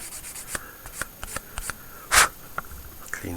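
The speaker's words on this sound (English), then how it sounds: "Again with our sanding stick." Short scratchy strokes of a sanding stick on a small plastic part of a 1/35 scale Italeri Tiger (P) Elefant model kit, repeated in an irregular rhythm, close up, with one longer harsh rasp near the end.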